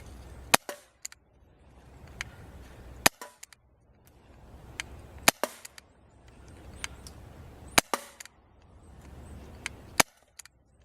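An M&P airsoft pistol fires about five sharp, snappy shots spaced a couple of seconds apart, each with a faint mechanical click, over low background noise.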